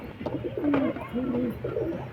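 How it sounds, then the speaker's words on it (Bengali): Large Kasuri and Rampuri pigeons coo nearby, with several distinct rising-and-falling throaty calls in succession over a soft, continuous background murmur. "বড় বড় বড় সাইজের পায়রা আছে নিচে যাওয়ার জন্য ছটফট করছে"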